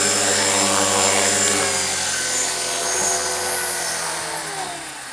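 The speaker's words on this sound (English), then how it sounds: "your helicopter still looks like mine, you just had a successful maiden flight" A small collective-pitch remote-control helicopter on its maiden flight whirs steadily with a high buzzing rotor whine, loud and close, easing slightly toward the end.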